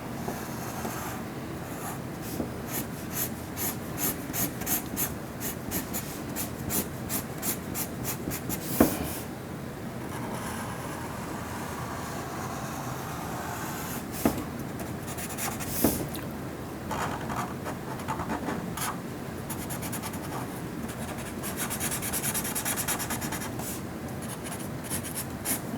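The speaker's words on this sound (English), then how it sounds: "So of course your Sharpie is going to bleed through the sulfite paper." Sharpie marker drawing on sulfite paper, a continuous scratchy squeak of felt tip strokes with rapid back-and-forth hatching rhythms and occasional taps, close and fairly loud, no voices.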